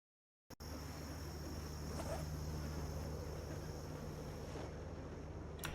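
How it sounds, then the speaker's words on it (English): Video game night ambience of crickets chirping, a steady dense insect hum with a constant high tone, starting abruptly after a moment of silence and continuing evenly. "all the cricket sounds and everything go away when you pause"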